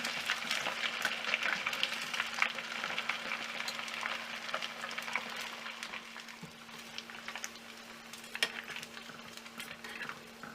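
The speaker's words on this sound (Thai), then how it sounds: "แล้วก็ทอดต่อไปตามต้องการค่ะ" Steady crackling sizzle of sun-dried pork belly frying in hot oil, close by, with occasional clinks of a utensil against the pan; no one talks.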